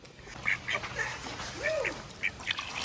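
A chicken vocalizes close by with a few short, soft clucks and one drawn-out rising and falling call, all faint against a quiet background.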